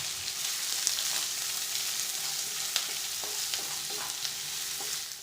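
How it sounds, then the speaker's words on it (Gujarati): Chopped onions sizzle steadily in hot oil with cumin seeds and curry leaves, a continuous bright frying hiss broken by small crackles and the occasional light scrape of a stirring spoon. "3 ઝીણી સમારેલી ડુંગળી ઉમેરી ડુંગળીને સારી રીતે સાંતળી લઈએ"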